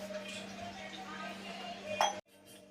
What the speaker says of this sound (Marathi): त्याच्यावरती झाकण घालायचं